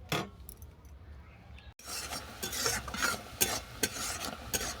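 An eggplant and jaggery chutney with cashews cooks in a pan. After a brief quiet start, close spoon stirring and scraping come in bursts over a soft bubbling sizzle, with no voices.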